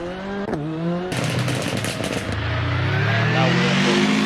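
A Volkswagen rally car tears through an urban fan stage, its engine note climbing, then breaking into a loud crackling burst of rapid pops, then settling into a rising, sustained roar close by.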